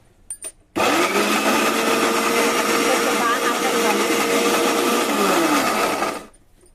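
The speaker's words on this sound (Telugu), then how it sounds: "వేసి మిక్సీ వేసుకుందాం" A mixer grinder blending tomatoes whirs into a loud, steady motorized roar right after a couple of clicks, runs continuously for several seconds, then winds down.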